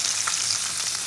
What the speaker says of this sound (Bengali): তেলটা আমার হিট হয়ে গেছে, এবার আমি মাছগুলোকে ভেজে নেবো।